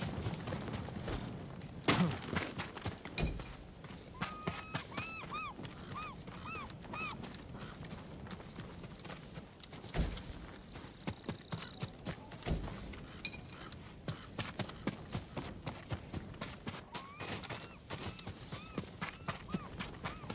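Horse hooves gallop in Ghost of Tsushima, a fairly faint, rhythmic run of thudding clip-clop beats that comes and goes over background game sounds.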